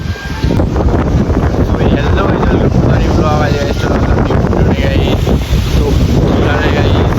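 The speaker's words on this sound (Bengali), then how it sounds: "প্রচন্ড পরিমাণে এখন ঠান্ডা হাওয়া দিচ্ছে, মানে ঝড় উঠছে" Strong storm wind roars steadily into the microphone, loud and buffeting throughout, with a rushing, gusty texture, as a cold gale breaks trees nearby.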